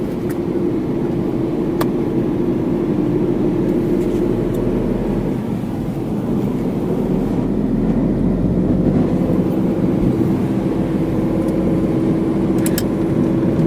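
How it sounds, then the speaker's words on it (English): A car climbs a winding mountain road through the Western Ghats between Kudremukh and Kalasa, its steady engine and road rumble droning loud and close inside the cabin, with faint wind and brief clicks over the continuous low hum. "Raju sir is driving"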